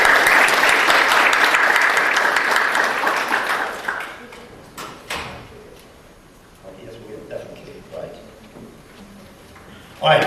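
Sustained applause from a gala audience, dense and loud for about four seconds, then thinning into scattered claps and murmuring voices before a final burst at the end.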